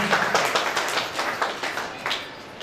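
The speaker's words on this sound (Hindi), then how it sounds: "सर के लिए तालियां बजाइए, उनके लिए भी तालियां बजाइए।" A short burst of scattered clapping from a small group in a hall at an achievers' celebration, irregular and moderately close, fading slightly toward the end.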